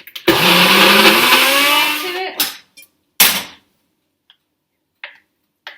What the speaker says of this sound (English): Then you're going to puree it till it's smooth.